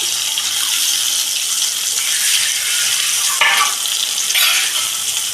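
Yogurt and milk paste with a little rinse water, stirred and cooked in a pan with eggplant, giving a loud steady bubbling hiss with a few scraping strokes.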